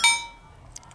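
Drinking glasses clink together once in a toast at a campsite in the American mountains, a bright ringing tap that fades quickly, followed by a faint click.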